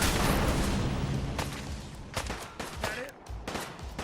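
Fast automatic gunfire from a weapon in the video game Fallout, a dense loud rattle of shots at first, then thinning into scattered bursts and booms.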